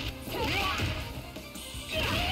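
A sharp smash-like impact from a knockaway fighting move in King of Fighters XV, a single dense crunch over busy, steady game sound with whooshing effects and no clear talk.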